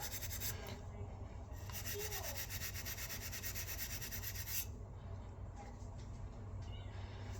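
Steady rubbing and scrubbing on a rusty metal blade just out of a vinegar bath, a continuous close abrasive rasp with brief pauses and no talk.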